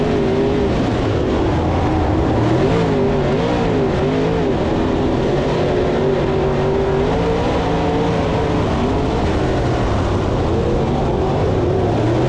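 Race cars roar around a speedway under a caution flag. Several engines drone loudly and continuously at close range, their pitch rising and falling as they accelerate and pass by.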